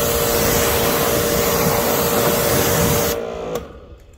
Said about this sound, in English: Let the high pressure blast that out.